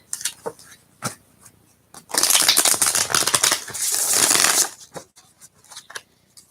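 A tarot deck is shuffled, starting with a few sparse taps and card clicks, then a burst of rapid riffling flutter for a couple of seconds, followed by scattered quieter card handling.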